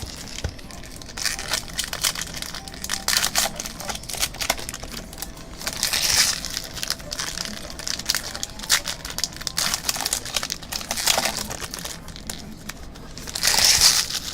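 Foil packs of 2016 Topps Finest baseball cards are torn open and the cards pulled out, with repeated close crinkling and tearing of wrappers in bursts and light handling rustle between, no talk.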